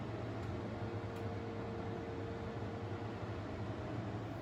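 An Arçelik 12215 portable air conditioner runs with its compressor engaged, giving a steady, even whir and hum with a faint tonal drone, constant throughout and heard alone at a moderate distance.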